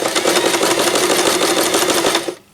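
A sewing machine stitches fabric in a fast, even mechanical rattle for about two seconds, then stops abruptly.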